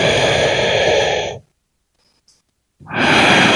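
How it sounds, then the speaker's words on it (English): Deep breath during a yoga flow, a long loud exhale close to the mic, then a silent pause before a second strong breath begins. "Nice big breath."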